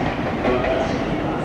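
A train at Chiba Station rumbles loudly and close in a continuous, dense roar, with a faint voice underneath.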